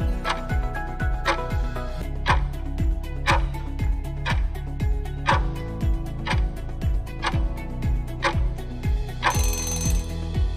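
A countdown timer ticking in a steady, evenly spaced pulse, each tick a loud bright clack over a mechanical background, with a brief hiss near the end.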